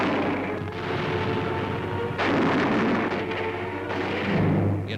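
Constant mortar fire rumbles across a 1944 Marshall Islands battlefield, recorded on wartime newsreel. Heavy booming blasts follow one another almost without pause and swell into louder bursts, with no voices.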